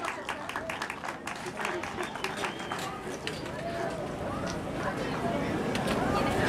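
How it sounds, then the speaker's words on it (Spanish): Outdoor crowd at a municipal football league final awards ceremony claps for a third-place team, a dense steady patter that swells slightly toward the end, with voices murmuring underneath. "Venga, el aplauso."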